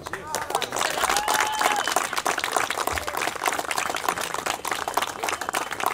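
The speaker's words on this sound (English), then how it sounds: "that deserves a round of applause" Outdoor crowd at a city park rebuild groundbreaking in Philadelphia claps steadily and fairly loudly for several seconds, a dense even patter with some voices mixed in.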